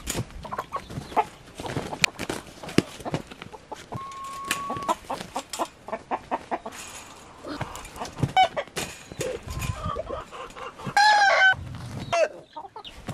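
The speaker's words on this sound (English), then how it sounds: "I think it's time to pause this and go chase some chickens." Chickens clucking and a rooster crowing on an abandoned farm in Spain, a busy, close chorus of overlapping clucks and calls with a louder crow near the end.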